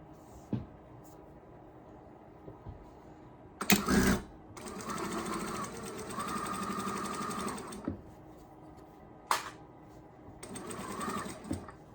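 A sewing machine stitches a fabric dining scarf in several bursts of steady, fairly close whirring, with short clicks and pauses between runs and a sharp mechanical clack near the start of one burst.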